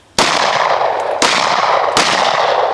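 Three sharp, loud pistol shots fired on a shooting range during a pistol and carbine class, evenly spaced about a second apart, each with a ringing tail that fills the gaps, no voices.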